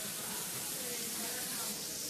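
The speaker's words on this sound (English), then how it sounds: "Generously spray that with cooking oil." Cooking oil spray hissing into a hot Teflon pan over medium heat, a continuous close, loud spray lasting a couple of seconds.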